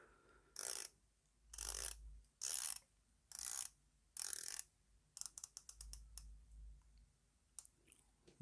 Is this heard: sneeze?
no